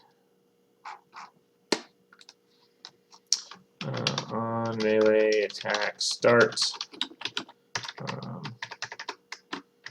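Typing on a new computer keyboard: a rapid series of clicky keystrokes, brisk bursts with short pauses, fairly close. Someone speaks over the middle of the typing.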